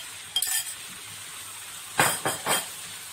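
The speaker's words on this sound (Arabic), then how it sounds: "عايزه تشوحي اللحمه الاول وبعدين تضيفي البصل براحتك برضه" Meat being sautéed and stirred in a pan: a faint steady sizzle under a quick scrape early on, then three close, loud hissing bursts as the meat is turned.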